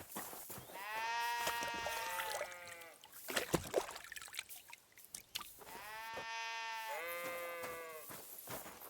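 Sheep and goats bleating in the medieval world of Kingdom Come Deliverance 2, two distinct, wavering, drawn-out bleats separated by a few seconds of quieter rustling, fairly close and clear.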